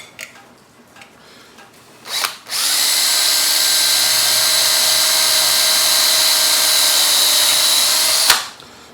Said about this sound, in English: We're just making the pilot hole.